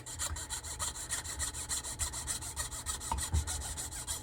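Wood is rubbed rapidly back and forth to make fine sawdust for cabochons, giving a close, steady rhythmic rasping that sounds much like sawing.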